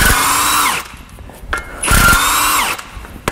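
A power tool undoing the 17mm half shaft bolts on a Land Rover Defender TD5 rear axle, heard as two loud whirring bursts, each slowing down at the end, with a short pause between them.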